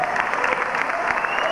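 Audience applause at a 1994 jazz festival, a dense steady wash of clapping from a large crowd that fills the whole moment, loud and close.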